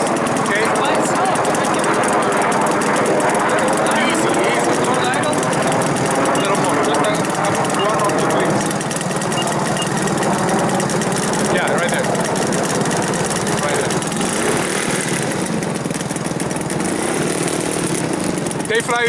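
The engine of a 40% scale YAK-54 model airplane idles steadily with a high buzzing drone that persists throughout, with people talking over it.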